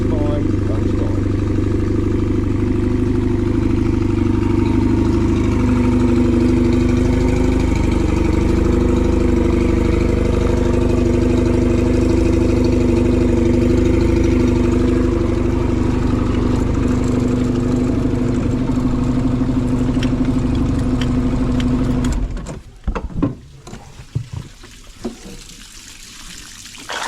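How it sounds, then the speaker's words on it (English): An outboard motor idles on a Macgregor 26 sailboat, a steady low droning hum with a watery gurgle running loud and close for over twenty seconds before cutting to quieter, irregular knocks and clatter. "I'm confident we shouldn't have any trouble with the motor, at least for a while, because it's running fine. Idle's fine, runs fine."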